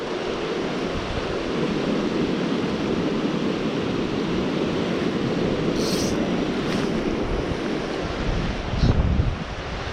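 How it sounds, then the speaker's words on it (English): Broad, steady wind rushing outdoors along the Cache La Poudre River in Colorado, blowing upstream and buffeting the microphone with a low roar that swells slightly near the end; no voices. "A weird wind through here that blows upstream"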